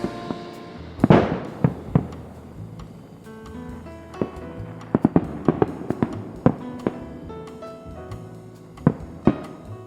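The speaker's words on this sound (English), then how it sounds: "Kyrie and I love to look at fireworks." Fireworks going off in a rapid series of sharp bangs and pops, some loud and close, others fainter, with crackling between bursts and no talk.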